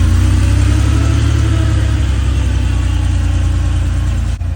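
A 1986 Porsche 911 Coupé engine idles steadily up close, a loud, low, even rumble without talk.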